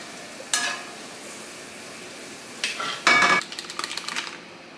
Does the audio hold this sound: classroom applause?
no